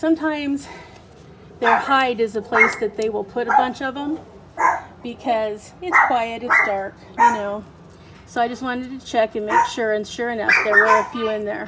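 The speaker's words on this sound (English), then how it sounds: "You'll have to excuse the barking dogs that are kind of crazy." Dogs bark and yip on and off in the background of a home with a pet laying eggs, mostly buried under steady close talking by a woman.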